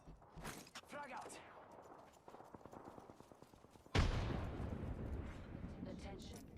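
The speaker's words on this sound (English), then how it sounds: "Frag out." In Apex Legends, rapid in-game gunfire crackles for a few seconds before a frag grenade explosion booms loudly, followed by a long rumbling decay.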